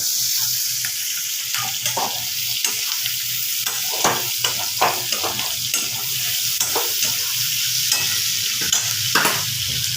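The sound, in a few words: onion, garlic and green chillies frying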